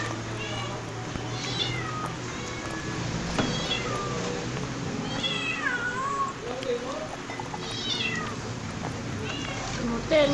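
Pet cats meow repeatedly in a home, with rising and falling calls scattered through the clip over a steady low hum, while people talk in the background.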